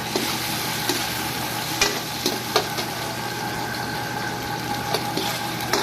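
Chili peppers sizzle in a hot pan while being stir-fried, a steady broadband frying hiss with occasional sharp pops and stirring clicks, close and continuous with no talking.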